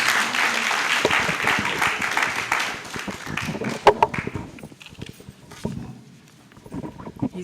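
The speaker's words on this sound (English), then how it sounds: "Please, a round of applause." Applause at a book launch comes as a loud burst of clapping from the audience that thins into a few scattered claps and then dies away, with no voices.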